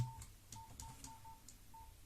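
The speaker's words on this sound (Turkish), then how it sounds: "Şöyle tuşlarına basarak test edelim." Keypad tones from a repaired Samsung Note 4 mobile phone being tested, a string of short, evenly pitched beeps of about seven presses at an irregular pace, clear and fairly quiet, with no talking.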